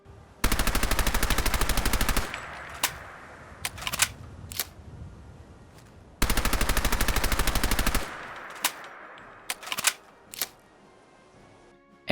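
A Thompson SMG replacer mod in Fallout 4 fires two long, rapid automatic bursts, loud and close, each followed by scattered sharp mechanical clicks and clacks of weapon handling.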